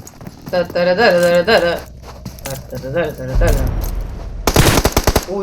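Gunfire in the mobile battle royale PUBG Mobile, including an Uzi, comes in short bursts of sharp shots, with a heavier volley near the end, under an excited commentator's voice.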